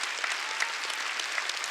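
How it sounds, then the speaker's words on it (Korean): Short burst of congregation clapping during a Wednesday church service, an even bright patter of many hands heard alone. "박수 치라고요."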